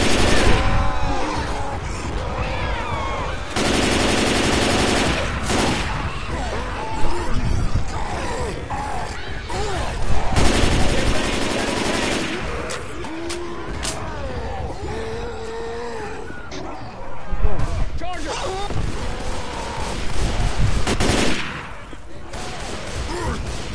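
Gunfire in Left 4 Dead 2 during Survival mode in the Mall Atrium while a Tank attacks, loud bursts of rapid shooting and explosive blasts repeating across twenty-odd seconds, with a voice talking over parts of it.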